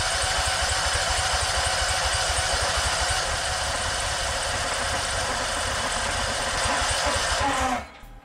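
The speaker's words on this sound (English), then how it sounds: "Let's crank it for a little bit and see what happens" A Yazoo Kees ZT Max 42-inch commercial zero-turn mower engine cranks steadily without firing, a loud, even, rapid churning that carries on unbroken for about seven and a half seconds before cutting off.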